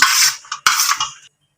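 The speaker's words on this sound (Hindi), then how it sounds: "अब इसे हम अच्छे से मिक्स कर लेंगे।" Chopped coriander and onion mixed by hand in a bowl, a wet, rustling squish in two bursts with a brief scrape between, close and fairly loud.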